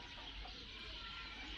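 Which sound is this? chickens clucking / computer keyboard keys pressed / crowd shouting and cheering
chickens clucking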